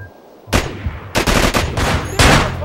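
Uzi fire in the video game Manhunt comes as three loud, close bursts of rapid shots, each cut short, with no talking.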